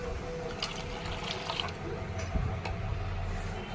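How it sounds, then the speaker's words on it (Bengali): Water pours into a dry fruit smoothie mix, a soft trickling stream under steady low background hum, fairly faint throughout. "এবার দেবো জল"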